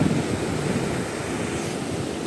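The Godavari River at Chasnale pours over rocks with potholes carved into them, a steady, dense rushing roar of falling water that fills the whole moment without any voices.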